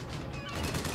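RPG fired in BioShock Infinite, a single short burst of explosive noise lasting about a second, loud and close with no talk over it.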